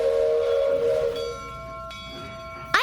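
A train pulling in near a volcano hiking site in Nicaragua, with a steady tonal whistle-like hum and rumble that shifts pitch as it arrives, ending in a sharp rising screech.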